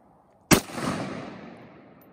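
A single loud 7.62x39 hollow point rifle shot fired at a PACA level 2 vest outdoors, a sharp close crack followed by a long rolling echo that fades over about a second and a half.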